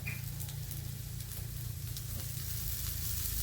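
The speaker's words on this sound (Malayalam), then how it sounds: "സൺഫ്ലവറിൻ്റെ ഓയിലാണേ. ഇത് കുറച്ച് വരട്ടിയിട്ട് നമുക്കിതൊന്ന് ചുട്ടെടുക്കണം." A chicken patty fries in sunflower oil with a steady, close sizzle and soft popping, constant and fairly quiet with no voices.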